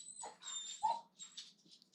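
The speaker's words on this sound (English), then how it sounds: "oh my gosh, dog, calm down" A dog gives short, high whimpers and a yip in an indoor room, a couple of brief whiny cries over a quiet background hum.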